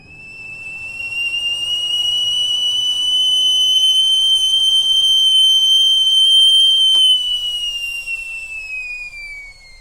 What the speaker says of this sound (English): it was just the whistle of a kettle